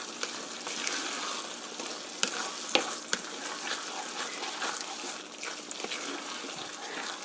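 Tofu frying with meat sauce in a pan while being stirred, a steady soft sizzle with a few sharper scrapes and clicks of the utensil, fairly close and moderate in level, no talking.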